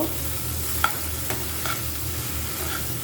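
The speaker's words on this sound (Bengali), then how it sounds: "ভালো করে একটু ভেজে নিব সরিষার তেলের সাথে পেঁয়াজের সাথে" Onions fry in mustard oil with a steady close sizzle, broken by a few sharp spoon or spatula clicks as they are stirred in the pan.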